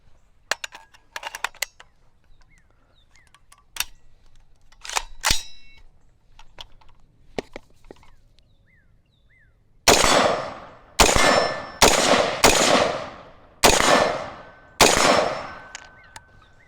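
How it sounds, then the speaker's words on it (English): A PSA AR-15 rifle fires six loud, sharp shots at an outdoor range, spaced about a second apart, after a stretch of quieter clicks and handling sounds. "let's shoot it a little bit and quit talking so much"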